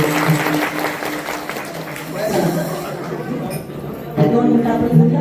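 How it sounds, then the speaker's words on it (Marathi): Crowd applause at a temple renovation ceremony and kirtan gathering, loud clapping rolling on under an announcer's amplified voice and general chatter, swelling again near the end. "या ठिकाणी जोरदार टाळ्या आगमन करता झाल्या पाहिजे."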